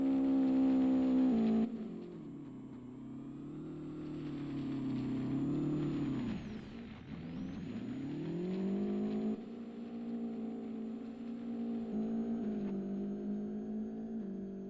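Race cars lapping the track in the Live for Speed racing game, engines droning steadily with pitch rising and falling as they shift and pass, one car swooping down and back up midway, no talk.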